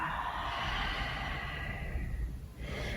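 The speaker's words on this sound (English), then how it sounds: "Inhale, exhale, inhale, and exhale." Steady, deep breathing during a guided meditation and yoga session, a continuous airy hiss of slow inhales and exhales, close and fairly loud, with a brief dip near the end and no talking.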